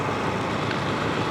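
On a night road in Antananarivo, an unlit truck rumbles close by, its broad engine and road noise holding steady and loud for a brief moment.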